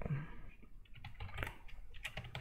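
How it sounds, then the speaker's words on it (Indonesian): A computer keyboard is typed on in short, irregular bursts of soft clicking keystrokes while a terminal command is entered, close and fairly quiet with no talking. "Caranya buka terminal lalu ketikkan perintah grep"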